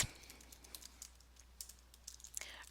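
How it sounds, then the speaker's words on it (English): Light computer keyboard typing, a few quick, soft clicks scattered across the short span, faint and close, with no voices over it. "So I'm going to type 2004"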